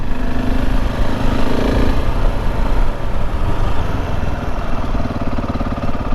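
A KTM 690 Enduro R motorcycle riding along a country lane in Lincolnshire, England, with a continuous loud engine drone and wind rush throughout, close and steady.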